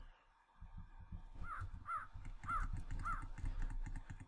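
Crow-like caws from a bird in the Minecraft video game, four repeated calls about half a second apart over a low rumbling background, fairly clear and close.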